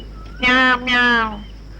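A voice imitates a cat meowing, two drawn-out, tonal mews in quick succession, close and clear.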